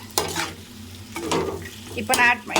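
Masala macaroni with red chilli sauce sizzles in a pan as it is stirred, bursts of frying hiss rising and falling with each scrape of the spoon, close and fairly loud.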